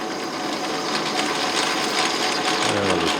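Chamfer tool cutting an injector adapter for a 1989 Mercedes-Benz 560SEL EFI conversion, a steady, close buzzing grind that runs unbroken throughout with a slight lower rumble near the end.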